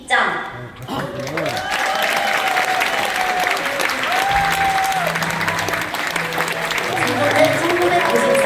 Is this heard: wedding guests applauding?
yes